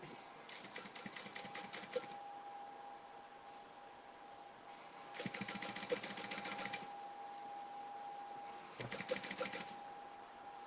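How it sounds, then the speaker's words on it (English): A sewing machine top stitching a tote bag runs in three separate bursts of rapid mechanical whirring, each lasting a second or two, against a steady background hum, with no talking. "I'm just top stitching"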